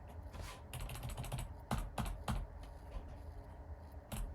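Keyboard shortcut keys tapped while cutting music notation in notation software: scattered close clicks and a few sharper key presses over a low room hum, no voices.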